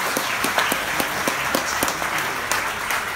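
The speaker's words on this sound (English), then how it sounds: "I think a round of applause for" A live audience applauds an Irish band, steady dense clapping from many hands with no gaps for the whole stretch.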